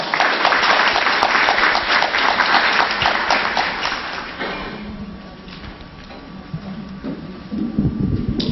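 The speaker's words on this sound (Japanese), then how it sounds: "大きな拍手でお迎えしてください。" A seminar audience at a Pakistan embassy event in Tokyo gives a loud, dense round of applause that tapers off after a few seconds into quieter room noise with scattered faint clatter.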